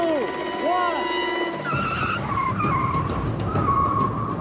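Tyres squeal and skid as a car launches from a standing race start on the Top Gear Middle East special, with the car weighed down by a sand-filled door. Engine roar builds beneath the screech, and voices are heard over the start.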